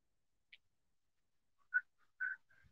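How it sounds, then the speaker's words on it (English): A person whistles a few short, faint notes in a quiet room, with brief gaps between the tones and no talking. "I'm whistling."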